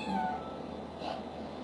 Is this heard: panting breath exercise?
no